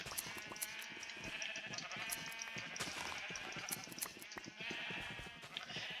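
Several sheep bleat in the video game Minecraft, repeated overlapping bleats at a moderate distance over a steady background, with no talking.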